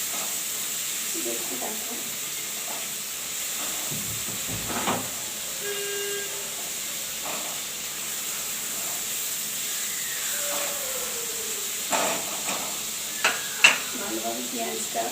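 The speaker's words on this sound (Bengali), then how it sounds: "এরপর পেঁয়াজ আর রসুন কুচিটা আমি দিয়ে দিচ্ছি।" Chopped onion and garlic sizzle in hot oil in a pan, a steady close hiss running throughout with a few clinks, while a person talks over it.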